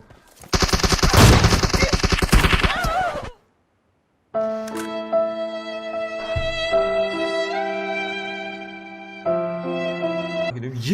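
Video game gunfire in a fast, loud automatic burst of evenly spaced shots lasting a few seconds, followed by a pause and then sustained tonal game sounds.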